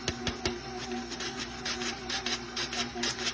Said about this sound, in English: I'm just going to sift those together real quick here while our butter is creaming.